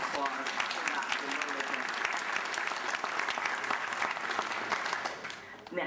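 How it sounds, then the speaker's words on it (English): A crowd at a 2009 health care reform town hall in Richmond, Virginia, applauds a doctor with dense, sustained clapping throughout, loud and full, easing slightly just before the end. "may I have a warm round of applause for Dr."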